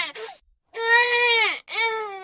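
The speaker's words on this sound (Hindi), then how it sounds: "उसे किसी बच्चे के रोने की आवाज सुनाई पड़ती है" A baby crying in loud, wailing bursts: a short whimper, a long sustained wail, then another rising cry, close and alone with quiet gaps between.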